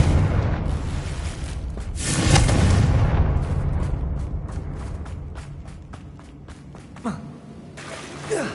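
A Confringo spell blast in the Hogwarts video game aimed at a damaged bridge, a loud booming explosion with a rumbling, crackling tail and scattered debris pops afterward.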